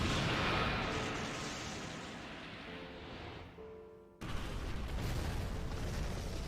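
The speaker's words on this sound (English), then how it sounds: "That's a nice looking explosion." A large explosion in an Ultraman transformation scene, heard as a loud, sustained booming roar that slowly fades, then a second heavy blast of rumbling noise hits suddenly and keeps going.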